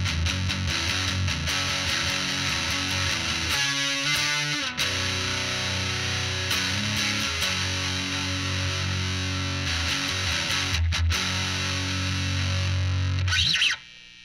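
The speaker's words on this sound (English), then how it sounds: "Alright, going all the way distortion, all the way gain." Electric guitar played through a Falcondrive overdrive pedal with distortion and gain maxed, thick saturated chords and sustained notes ringing out with brief pauses, ending in an abrupt cutoff.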